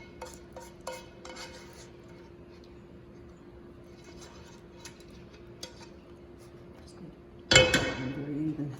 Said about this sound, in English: So we're using a serving spoon to get all of that out of the fry pan.